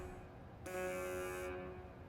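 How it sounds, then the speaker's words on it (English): Comic buzzer horn effect from the NHL 17 video game, a single sustained nasal buzz lasting under a second, heard cleanly over a quiet background. "Comic buzzer"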